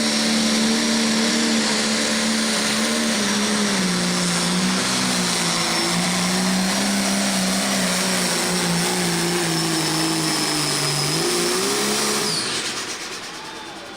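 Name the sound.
Wild Buck pulling truck, turbocharger spooling at high RPM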